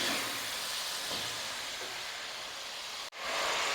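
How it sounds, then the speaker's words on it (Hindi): Goat meat sizzles in a karahi with salt over a lowered flame, a steady close hiss with a brief break near the end before it resumes. "नमक डाल के हम इसको फ्राई करेंगे, आँच कर देंगे हल्की।"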